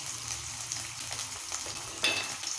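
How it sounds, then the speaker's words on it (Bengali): Chicken pieces sizzling in hot white cooking oil in a pan, a continuous bright crackle with a sharper spit near the end, close and steady. "এবার আমি তেলটা গরম হলে চিকেনগুলো ছেড়ে দেবো।"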